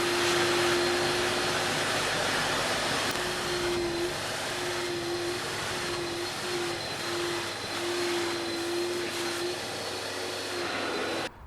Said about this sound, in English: With all of the dirt laying on the surface, the vacuum can suck all of it up